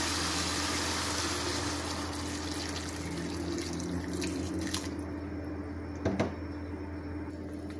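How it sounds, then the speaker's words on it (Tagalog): Water is poured into a cooking pan with carrots while making sotanghon guisado, a steady splashing rush that runs unbroken for several seconds, followed by a couple of faint clinks near the end. "Lagyan naman natin ng tubig."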